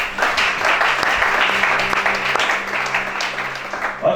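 A congregation at a church service in Gabon claps steadily together, a dense, loud round of applause filling the room for several seconds with a sustained tone underneath.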